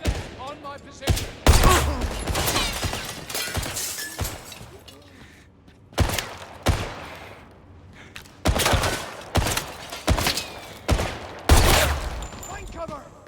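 Enemy gunfire in a first-person shooter video game, loud bursts of automatic fire cracking repeatedly across the clip with brief gaps, mixed with shattering impacts and voices shouting over it.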